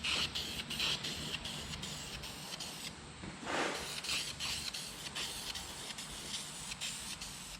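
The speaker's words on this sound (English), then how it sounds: "So we're gonna all spray them the same with this black enamel gloss" Hissing aerosol spray of black gloss enamel onto van wheels in repeated bursts, some short and some longer, close by, with brief gaps between passes.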